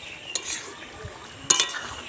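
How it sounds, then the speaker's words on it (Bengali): A spoon stirs a fig (dumur) curry in a pan, giving two short scraping clatters against the metal under a faint background hiss, with quiet gaps between strokes. "এবার আমি কিছুক্ষণ নেড়ে দেবো এরকম করে।"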